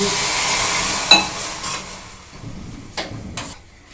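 A spoonful of water hits hot caramel in a bowl, raising a brief sizzle that fades, with a few light clinks of a spoon against the bowl afterward.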